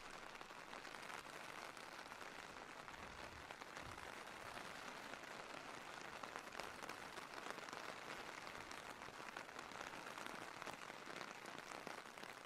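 Steady video-game rain pattering on surfaces, a dense even hiss of drops that continues without pause and sounds quiet and soft.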